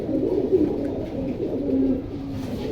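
A Hurricane breed pigeon coos close by, a low continuous throaty rumble that carries on without pause, heard alone.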